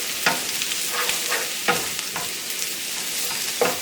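Ginger, garlic and green chillies frying in a pan, a steady close sizzle broken by several sharp scraping stirs of a spoon against the pan.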